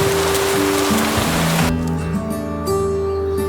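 Rain comes on as a loud, dense hiss with a sustained musical tone underneath, then it abruptly drops to a much quieter patter partway through.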